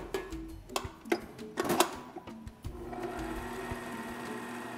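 An electric mixer whirs through devil's food cupcake batter with a steady, buzzing mechanical hum broken by short rattling clicks, then settles into a smoother, quieter drone at close range.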